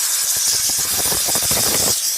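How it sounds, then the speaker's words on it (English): A Chief Steamer cleaner at 125 PSI blasts a loud, continuous hiss of steam onto a car wheel, with faint rattling spatter within the spray. "we'll just blow some steam on the wheel"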